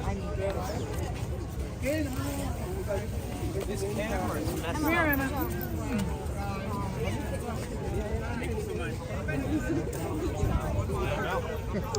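Crowd chatter on a Washington, D.C. street near the White House, a steady babble of many overlapping voices at middle distance, with occasional clearer nearby speech rising out of the murmur.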